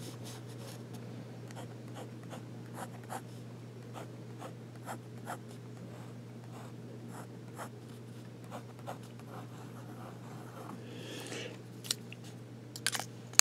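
Vintage Diplomat fountain pen with a wet nib scratching across paper, a series of short, crisp strokes in an irregular rhythm, close and fairly quiet over a steady low hum.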